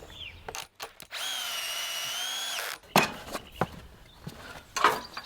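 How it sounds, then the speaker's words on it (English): A cordless drill drives 100mm Volt screws into the corners of a wooden frame for a garden room base. One long steady whine of a screw going in is followed by short bursts and clunks as the driver is repositioned. No one speaks. "I'm going to get a couple of screws into each corner using these Volt 100mm screws."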